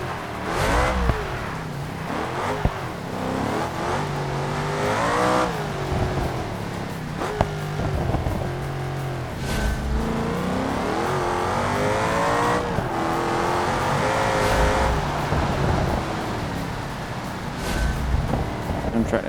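Racing car in the BeamNG driving game revs hard and slides through turns, its engine pitch rising and falling continuously with tire noise, while someone talks over it throughout.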